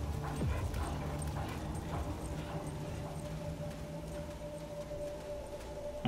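Dogs bark and yip in a PC video game alongside clip-clopping hooves, a mix of short barks and whimpers over a steady background hum.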